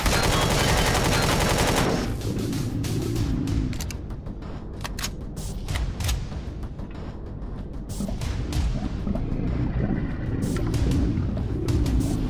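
Rapid turret gunfire in a weapons bunker level of a video game, a dense continuous volley that runs loud for about two seconds and then carries on as scattered bursts and impacts over a steady rumble.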